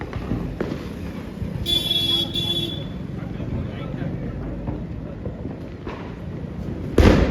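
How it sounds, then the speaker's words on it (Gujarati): Diwali firecracker bombs bursting at a family celebration, with one loud sharp bang near the end and a couple of fainter thumps earlier, while people talk throughout. "બોમ્બ ફોડે છે"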